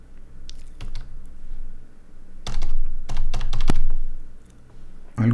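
Typing on a computer keyboard, bursts of clustered key clicks and clacks separated by brief pauses, close and fairly loud, with a few heavier thunks near the end.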